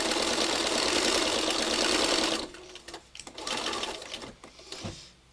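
A sewing machine runs fast and loud in one steady stitching burst for about two seconds, then stops and leaves faint handling noises.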